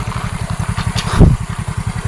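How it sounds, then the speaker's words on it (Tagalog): Motorcycle engine idling with a fast, steady pulsing putter, close by, and a brief louder rev swell in the middle. "Tama, may motor!"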